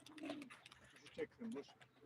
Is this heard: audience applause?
no